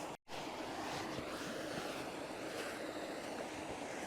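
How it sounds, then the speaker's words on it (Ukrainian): By a river bank in Mykolaiv, a waterfall roars in a constant broadband rush of water, loud and steady with a brief dropout near the start and no talking. "Водоспад фігаче, як бачите, без перекуру."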